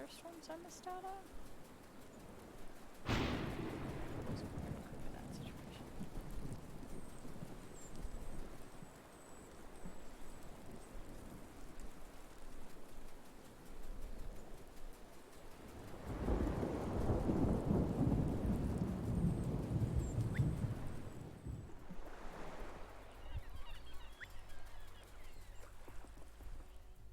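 A rainy thunderstorm in Wylde Flowers: steady rainfall under talk, with a sharp thunder crack early and a long swelling roll of thunder later.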